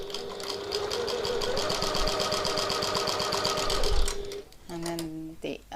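Sewing machine stitching a piped pocket tote bag, a rapid steady chattering run for about four seconds that halts, followed by a voice speaking close by.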